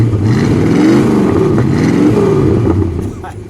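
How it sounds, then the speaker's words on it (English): A 1952 Chrysler New Yorker convertible's V8 with dual exhaust revs up in a loud, close, throaty rise, holds, then eases off toward idle near the end. "Give it a little rev, please."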